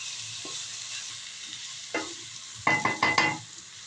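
Potatoes, green chili, salt and turmeric stirred in a pan for soybean khichuri, a soft background sizzle broken by a few distinct scraping strokes of a spoon, close and without talk.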